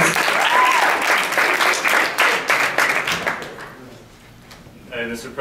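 An audience claps for an improv comedy scene, loud dense applause that gradually thins and fades, with a voice speaking briefly at the end.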